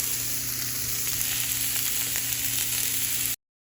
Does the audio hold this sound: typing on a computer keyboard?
no